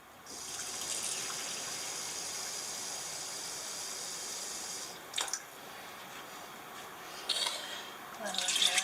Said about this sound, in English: You put 1 cup of water in the bottom.